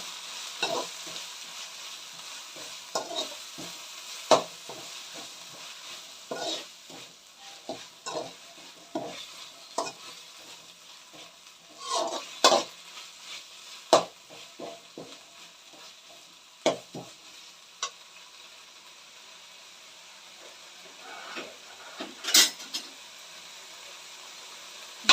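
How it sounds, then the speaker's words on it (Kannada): Potatoes and spice masala fry and get stirred in a pan for a warming Nepali-style potato dish, with repeated scraping strokes of a spoon and bursts of sizzle over steady frying hiss, no talk. "ಈಗ ಮಸಾಲೆ ಎಲ್ಲ ಹಾಕಿ ಚೆನ್ನಾಗಿ ಫ್ರೈ ಆಗಬೇಕು"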